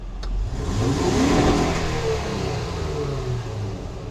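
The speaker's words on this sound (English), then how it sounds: "Depress the accelerator pedal fully until" A Honda Odyssey engine revs hard with the accelerator pedal pressed to the floor, a loud, sustained rising and falling roar. A short click comes near the start.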